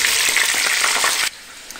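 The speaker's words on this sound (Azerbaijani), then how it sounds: "Əvvəlcə toyuqları əlavə edib. Yaxşıca qızardıram." Chicken pieces fry in their own rendered fat, giving a loud, dense crackling sizzle that stops abruptly near the end, leaving quiet background.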